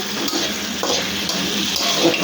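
Kunchi fruit, seasoned with salt and turmeric, frying in a pan with a steady close sizzle and occasional stirring scrapes, no talk over it.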